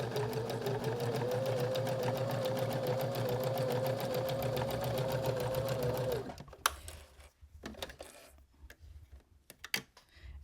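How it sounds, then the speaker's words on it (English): A sewing machine runs a test stitch on scrap fabric, whirring and rattling steadily up close for about six seconds before stopping, followed by scattered light clicks and handling sounds. "I like to do just a a sample to make sure that stitch is going to be stitching the way I want it to."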